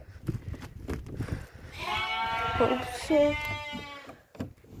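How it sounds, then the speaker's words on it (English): Sheep and lambs in a farm shed let out two drawn-out nasal bleats close by, amid shuffling and a brief exclamation from a person. "there's legit sheep back there."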